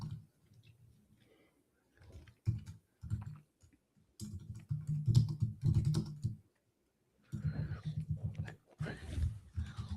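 Bursts of typing on a computer keyboard, with quick clusters of clicks separated by short silent gaps, close and fairly loud.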